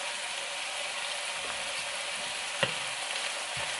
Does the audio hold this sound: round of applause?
no